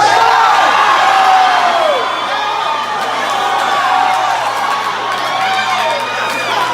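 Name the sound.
church congregation screaming and cheering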